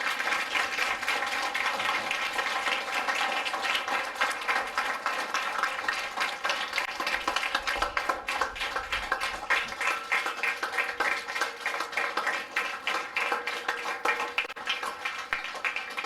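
Steady audience clapping at a church New Year program, a continuous rhythmic patter of many hands with bright tonal sounds running underneath, lasting throughout at moderate loudness.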